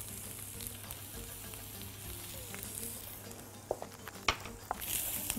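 Butter sizzling in a pan with oil for grilled chicken kofta, a steady soft crackle with a low hum beneath and a few sharper pops toward the end.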